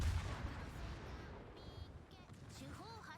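Naval guns fire and shells land in a warship video game, a dense rumbling of cannon blasts and impacts under faint game sounds, with brief tonal effects and voices near the end.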